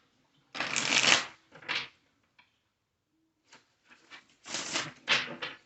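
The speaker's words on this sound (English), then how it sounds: "Last shuffle." Tarot cards being shuffled by hand in a few distinct bursts, close and crisp, with short pauses between riffles and no talking.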